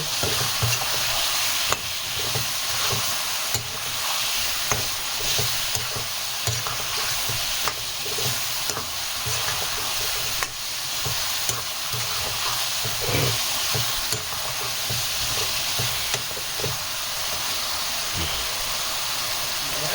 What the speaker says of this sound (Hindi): अब इन मसालों को हम इसमें अच्छे से पकाएंगे।